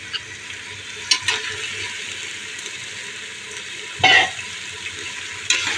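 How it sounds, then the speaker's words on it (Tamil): Chicken frying and being stirred in a pot while cooking seeraga samba biryani, a steady soft sizzle with a few sharper scraping stirs, moderately close, with no talking. "இப்போ நம்ம சிக்கன் சேர்த்துக்கலாம்"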